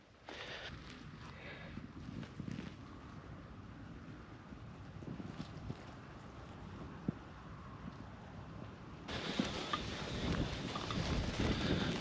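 Wind blowing outdoors on a cold early morning at sunrise, a steady rushing buffet across the microphone that grows stronger and harsher toward the end.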